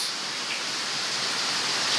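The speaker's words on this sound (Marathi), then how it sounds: "आणि आवाज बघा पावसाचा कसा आहे बघा. वारा, पाऊस," Heavy monsoon rain driven by wind pours down in a Konkan village, a dense, even hiss that stays constant for a couple of seconds.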